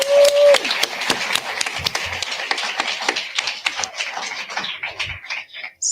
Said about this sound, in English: just want to give a round of applause to our amazing cast